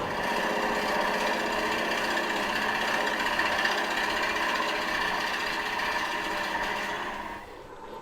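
A drill boring with a bit held in a Jacobs chuck at about 400 RPM, a steady, fairly loud whirring hum that holds for several seconds and then winds down near the end.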